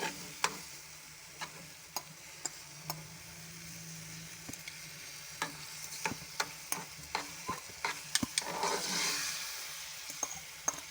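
Besan halwa mixture with egg being stirred in a pan, a steady soft sizzle under repeated scraping clicks of a spoon against the metal, with no talking.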